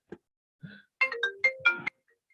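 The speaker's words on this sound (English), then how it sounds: "And where's my phone ringing?" A mobile phone ringtone plays a short melodic run of bright tones after a couple of soft blips, fairly loud and close in a quiet room.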